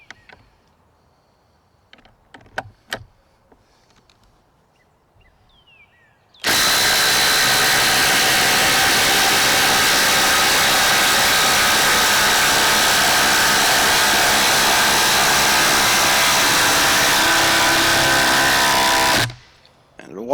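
Dewalt and RIDGID Octane impact drivers drive long lag screws through a treated 4x4 lumber post into a picnic table below, giving one loud, steady, close hammering-whine burst that lasts about thirteen seconds, preceded by faint handling clicks.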